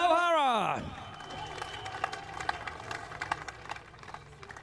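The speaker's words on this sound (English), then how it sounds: "A nice round of applause" Crowd applause and scattered cheers for the winner of a MotoAmerica King of the Baggers motorcycle race at Road America, a steady moderate clapping wash following a fading sweep of sound.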